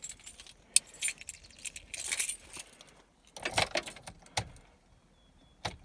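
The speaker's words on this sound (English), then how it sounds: "there's my keys." A bunch of keys jangles in bursts, loud and close, with short rattling shakes separated by quieter pauses and a final brief jingle near the end, set against the low rumble of a car interior.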